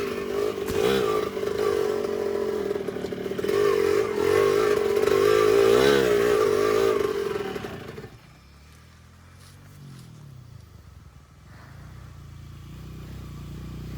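An enduro motorcycle rides up a rough trail on Mount Makiling, its engine roaring loud and close with a shifting pitch for about eight seconds, then dropping to a quieter, more distant rumble.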